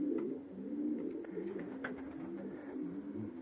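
Pigeons in a loft coo softly and repeatedly at close range, a low rolling murmur with faint chirps and rustling in the background.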